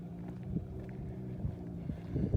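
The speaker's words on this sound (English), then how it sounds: "Finally, two-step is installed on the Nissan GTR Godzilla." A Nissan Skyline GT-R holding at the limiter on its two-step anti-lag launch control: a steady, deep engine drone nearby, broken by a few short, sharp pops and crackles.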